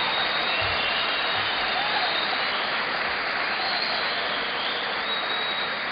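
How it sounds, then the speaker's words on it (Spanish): A boxing-event crowd applauds in a continuous, hissing roar of clapping and cheering that holds at an even, loud level with no breaks, dense and indistinct like broadband noise. "Fuerte el aplauso, Lincoln, para que lo escuche todo el país"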